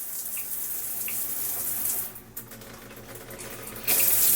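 Shower water runs steadily inside a bus RV conversion, a continuous close hiss of spray that dips briefly midway, then surges louder near the end.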